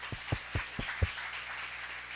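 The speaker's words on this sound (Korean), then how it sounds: "열정으로 달려온 우리 과학도들에게 힘찬 박수 부탁드립니다." An audience of high school science students applauds at a lecture: a few separate low thumps at the start, then a soft, even patter of clapping that carries on at moderate volume.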